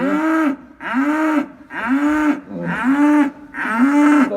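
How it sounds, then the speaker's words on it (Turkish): Calves mooing loudly and close by, five long bellowing calls in steady succession with brief pauses between them, no talking. "Oradan da bana saldıran dana."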